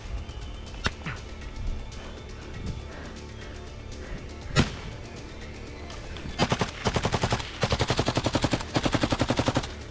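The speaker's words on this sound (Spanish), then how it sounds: "Desde allí mantienen su ofensiva con un intenso tiroteo" Gunfire in trench combat between Russian and Ukrainian troops: scattered single shots early, then dense bursts of rapid automatic fire, loud and sustained near the end.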